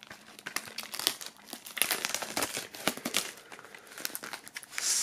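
Plastic shrink wrap being crinkled and torn off a CD from a Papa Roach box set, a dense run of close, crackling rustles and tearing bursts lasting several seconds with no talking.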